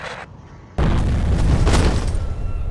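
Grenade explosion in the F.E.A.R. video game, a sudden loud booming blast that starts abruptly and then holds as a sustained roar of rumble and debris.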